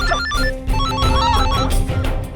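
A melodic phone ringtone plays loudly over background noise, a short repeating electronic tune.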